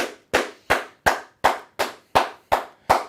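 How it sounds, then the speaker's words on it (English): A single pair of hands claps nine times in an even, unhurried rhythm, each sharp clap close and crisp with a quick decay. "let's clap it up"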